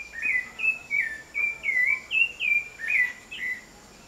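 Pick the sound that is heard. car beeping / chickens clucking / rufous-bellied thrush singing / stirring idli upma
rufous-bellied thrush singing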